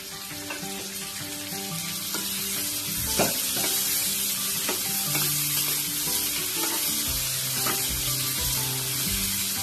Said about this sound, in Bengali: এবার আমি এর মধ্যে পেঁয়াজ দিয়ে দেবো।